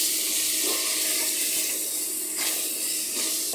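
Water poured into a hot pan of chicken masala with cumin powder, turmeric and salt, cooking for a chicken and helom-bean curry, gives a steady, bright hissing sizzle that holds throughout without any voices.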